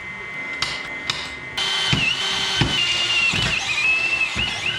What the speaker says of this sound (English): Go drill those out.